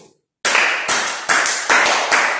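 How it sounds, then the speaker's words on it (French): Audience clapping at a talk, starting abruptly after a brief silence and coming in loud, close bursts of rhythmic applause that swell and dip every few tenths of a second. "Applaudissez pour vous"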